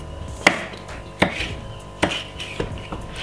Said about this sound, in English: Cut it up very smallly and just pop it straight on it like this.